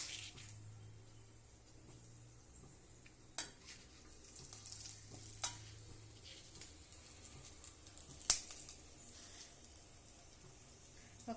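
Fenugreek seeds fry in oil for an eggplant kuzhambu, giving a faint, soft continuous sizzle with a few small pops and stirring clicks, quiet and close.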